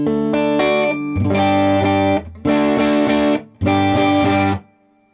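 A Milkman Half Pint guitar amp with its gain in the crunchy overdrive range, playing four sustained distorted chords, each ringing for about a second before cutting off, the last fading to silence; no talking.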